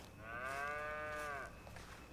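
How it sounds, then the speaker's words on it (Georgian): A cow in Red Dead Redemption 2 gives one clear, drawn-out moo lasting about a second, fairly near and alone over quiet game ambience. "მიცნობ რა, ახლობელი ძროხა."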